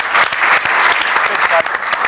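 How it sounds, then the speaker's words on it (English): A studio audience on a soccer review show applauds a Jimmy Rooney medal winner, with loud, close, sustained clapping that stays steady throughout. "what about a round of applause for him too, Chris Epsowski."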